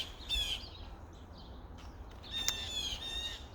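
Crows give harsh squawking caws in two bursts, one early and a longer one later, moderately close against a quiet background.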